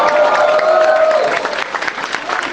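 Applause from a crowd after Sophie Trudeau's speech, a dense steady roar of clapping with some cheering, close and loud, easing slightly toward the end before cutting off.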